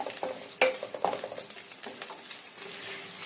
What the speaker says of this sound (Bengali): আর কিছুটা এই কিউব করে কাটা পেঁয়াজ কুচি দিয়ে দেব। দিয়ে আবারও একটু লাল লাল করে ভাজবো।